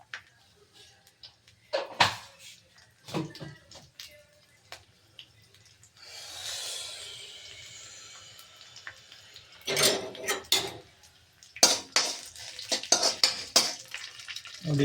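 Urad dal and mustard seeds tempering in a pan for cabbage palya, with stirring clatter, a steady sizzle swelling in the middle and sharp utensil scrapes and taps throughout, fairly close.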